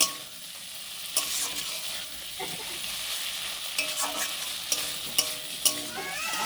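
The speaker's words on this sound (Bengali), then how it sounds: "মশলাটা ভালোভাবে কষিয়ে নেব।" Spice paste sautéing in a pan, a continuous sizzle with clinks and scrapes of a spatula against metal, several sharp taps near the end, and no voices.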